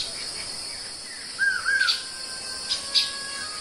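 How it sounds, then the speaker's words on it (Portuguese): Several birds chirp and call in short bright bursts over a steady high insect-like drone, heard from a quiet spot among the Paraná River islands where a white-billed iraúna and other waterbirds nest. "Estamos no paraíso das aves."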